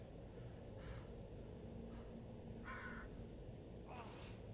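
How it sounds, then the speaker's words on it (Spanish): In the horror video game Blair Witch, a crow gives a few harsh, separate caws over a quiet, low background rumble, each call short and fairly distant. "Un cuervo."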